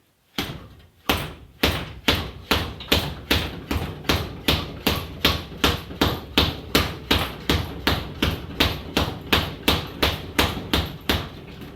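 About twenty quick punches land on a leather punching bag in a steady, even rhythm, each strike a close, sharp thud that repeats with no talking.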